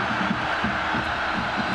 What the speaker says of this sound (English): Now the crowd gets after it again here.